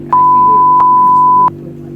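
A censor beep added in editing: a steady electronic tone that cuts in near the start and holds for about one and a half seconds over a background of talk, then drops away.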